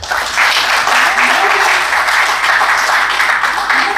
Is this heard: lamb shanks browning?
no